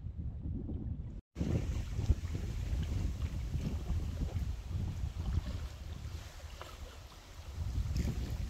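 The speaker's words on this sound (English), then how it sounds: "It's getting a little windy though" Wind buffets a microphone on a lake in the Adirondacks during a canoe camping trip, a loud, constant rumbling gust with a brief cut near the start and no talking.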